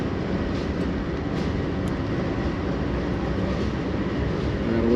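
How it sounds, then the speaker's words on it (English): A train rolls past outdoors with a loud, continuous low rumble and rattle of wagons that holds steady and swells slightly toward the end, no speech. "I gotta wait till the train goes."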